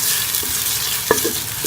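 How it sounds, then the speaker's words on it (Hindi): Finely chopped onions frying in a clay pot for a seasonal greens dish, a short burst of close sizzling with a clink or scrape of stirring near the end. "ये बारीक कटा हुआ प्याज हम इसमें डाल देंगे। तो हल्का सा हम गोल्डन कर लेंगे प्याज को।"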